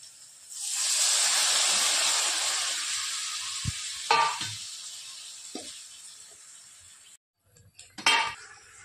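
Spiced dal and spinach sauté in a hot pan, first with a loud, sustained sizzle that gradually fades, then with scattered spoon scrapes and stirring clinks and a final short burst of frying.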